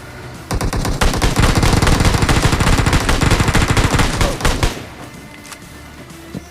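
Sustained automatic gunfire from the battle royale game BGMI, rapid loud bursts of shots running for about four seconds in a duo fight, then stopping abruptly and leaving quiet game ambience.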